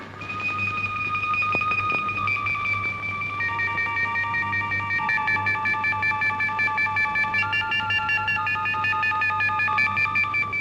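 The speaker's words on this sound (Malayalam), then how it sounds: "ഞാൻ അവർക്ക് ഫോൺ ചെയ്യാം." A telephone is dialled in a Malayalam film scene, a steady run of keypad tones stepping from one pitch to the next for about ten seconds, loud and close with no voices.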